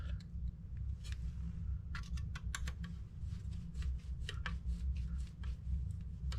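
Screws are tightened on the landing gear of a Hawk & Longbow model, making small irregular ticks and clicks close by over a low, steady background hum, with no talking.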